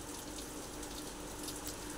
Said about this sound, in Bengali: প্রচণ্ড বৃষ্টি হচ্ছে দুপুরবেলাতে।